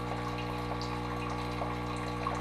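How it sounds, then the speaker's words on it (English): A Saeco Odea Go espresso machine dispenses water during descaling, giving a steady, even pump hum with a continuous trickle of flowing water throughout and no voices. "So we're gonna dispense a little bit of water."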